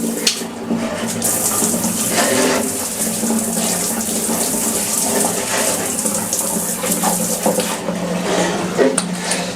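An Indian-style squat toilet, blocked and treated with caustic soda, being flushed, with a continuous loud rush and gush of water that surges and churns throughout, no voices over it.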